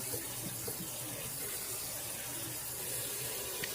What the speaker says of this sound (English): I'm going to drain my new pasta noodles.